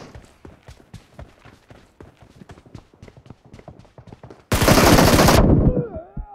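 Rapid bursts of video game gunfire crackle in a quick, uneven rhythm, then a loud continuous blast of noise lasts about a second before dying into ringing tones.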